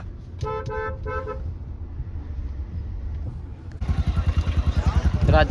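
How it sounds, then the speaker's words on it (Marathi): Traffic noise in a jammed parking area with a car horn sounding briefly early on, then a loud engine revving and throbbing nearby; voices are faintly present. "वरती पार्किंग मध्ये जाम ट्रॅफिक आहे"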